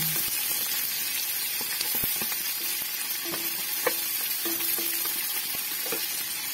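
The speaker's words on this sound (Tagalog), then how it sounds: "Ilagay na po tayo ng mantika at ilagay na po natin ang ating sibuyas at bawang." Onion and garlic sauté in hot cooking oil in a pan, a steady close sizzle and crackle with occasional sharp spatters and light clinks of a utensil, with no talking.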